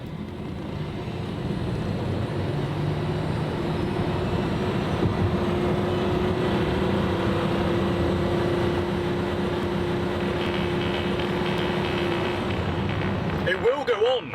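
An LEVC VN5 electric van with a 150 horsepower rear-axle motor accelerating from 0 to 60, giving a steady rising motor whine over road and wind noise, with a voice talking over it.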